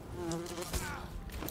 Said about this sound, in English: Oh, bees? Oh, bees!